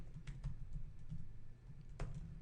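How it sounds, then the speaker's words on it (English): Rapid, close keystrokes clatter on a computer keyboard as a router command is entered, with a soft low hum underneath and no talking. "I didn't have to type all that out"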